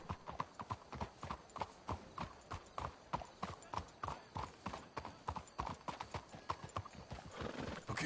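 Horses' hooves clip-clop steadily in Red Dead Redemption 2, a close, even rhythm of hoofbeats at walking pace that runs the whole time, with a faint whinny near the end.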